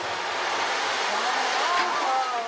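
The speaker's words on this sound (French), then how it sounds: "là le bruit des vagues, quelque chose, on ferme les yeux, on est à la mer" Ocean wave sound plays as a steady, fairly loud washing roar with no breaks, while a voice is faintly heard underneath.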